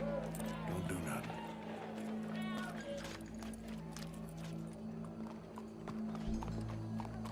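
Horse hooves clip-clop in a steady trotting rhythm in Red Dead Redemption 2, fairly close, with voices talking over them and background game music.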